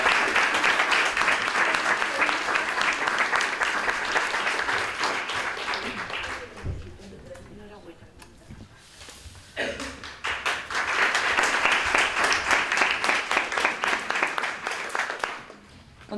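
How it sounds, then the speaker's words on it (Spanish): Loud, sustained applause from an audience at a Book Day awards ceremony in San Roque, dying down briefly in the middle before surging again into a second dense wave of clapping. "Un aplauso, por favor"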